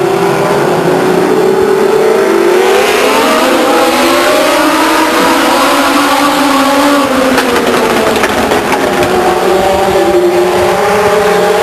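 Legends race cars roar as they accelerate at the green flag at Stockton 99 Speedway, a loud, sustained pack of engines with pitch swelling and shifting as the cars pass.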